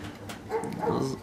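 A dog barks and whimpers in short yips nearby, mixed with people talking in a garage setting while a carburetor is being reinstalled.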